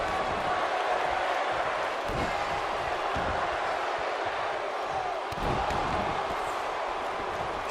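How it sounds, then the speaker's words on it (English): A WWF wrestler stomping on an opponent in the ring, heavy thuds landing at irregular intervals over a constant roar of a large arena crowd. "And Shango now stomping away."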